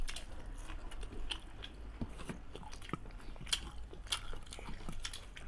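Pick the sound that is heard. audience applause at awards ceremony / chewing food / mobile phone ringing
chewing food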